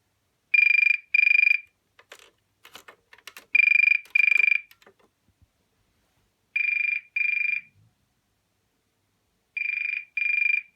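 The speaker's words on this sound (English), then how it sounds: "Got a nice ring to it, the trim phone ringer." 1981 BT Snoopy and Woodstock rotary telephone with a trim phone electronic ringer, sounding in paired warbling bursts that repeat three times with pauses between, close and clear, with some faint handling clatter after the first pair.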